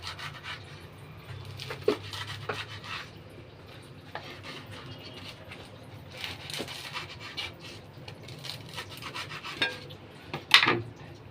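A knife slices a fried spring roll into diamond shapes. Soft scraping and rubbing strokes sound close by, broken by a few faint taps and one brighter clink near the end, with no voices.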